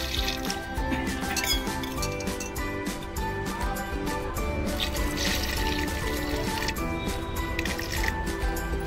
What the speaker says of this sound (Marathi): आपण आता याच्यामध्ये पाणी टाकूया।